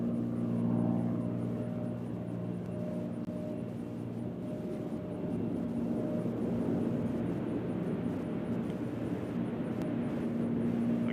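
Southwest airliner departing for Boston from Nashville airport, its engines a steady, moderately distant rumble with a tonal hum that holds throughout.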